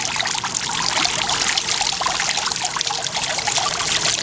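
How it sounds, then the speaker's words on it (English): Water runs steadily from the pump of a Williamsburg Pineapple two-tier garden fountain, a close, continuous trickling and splashing with no talk. "adjust it to whatever desired level of water output you would like"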